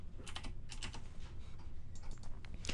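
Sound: typing on a computer keyboard

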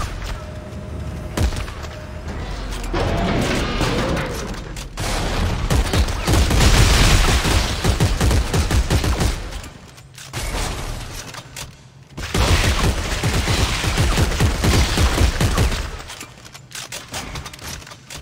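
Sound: weapon gunfire in the video game Dead Space 3

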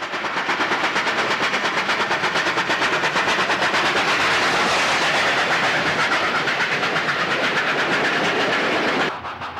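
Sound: steam locomotive 3818 hauling the Central West Express, New South Wales

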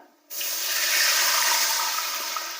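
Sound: pouring water into cooking pan

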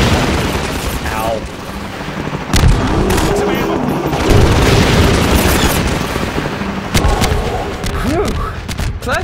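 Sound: gunship gunfire in video game Half-Life 2

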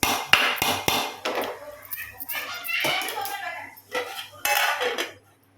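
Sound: lid put on cooking pot

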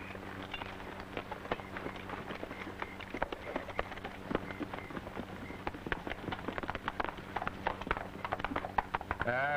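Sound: horses galloping

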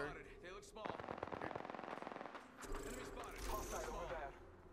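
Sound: gunfire in a video game

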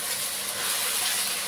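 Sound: garlic and onion paste frying in pan

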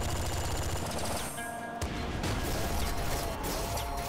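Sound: bazooka shots in video game Nuclear Throne

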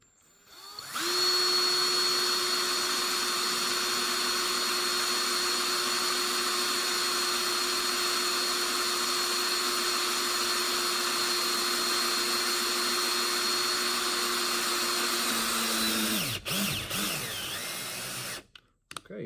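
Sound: Ryobi cordless drill driving an 8-32 drill and tap bit

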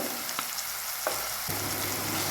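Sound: mixing spices in a frying pan

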